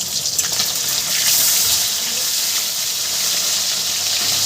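Fish sizzling in hot oil in a pan, a steady bright hiss with faint crackles running continuously throughout, close and fairly loud, with no talk.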